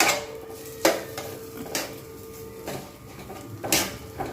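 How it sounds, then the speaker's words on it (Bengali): Bread dough for homemade sandwiches being stirred in a bowl, with a few sharp clinks and scrapes of the utensil against the bowl over a low, steady background. "এরকমভাবে ভালো করে নাড়িয়ে নেবো, একদম মিহি হয়ে যাবে।"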